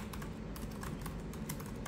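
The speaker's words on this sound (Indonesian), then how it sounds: "Nah, sekarang kita coba ngetik aja." Typing on an Advan WorkPro laptop keyboard, a quick run of soft, light key taps in an irregular rhythm, close and fairly quiet, with no talk over it.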